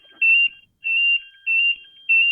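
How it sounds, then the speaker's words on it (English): An electronic alarm beeps in four steady, evenly spaced bursts, a loud high-pitched tone with short gaps of silence between them. "The alarm's going off."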